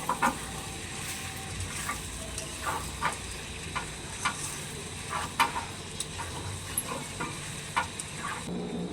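A chilli dish with cornflour sizzles in a pan while being stirred, steady frying hiss broken by regular scraping strokes of the spoon every second or so, close and alone without talk.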